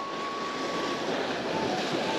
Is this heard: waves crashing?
yes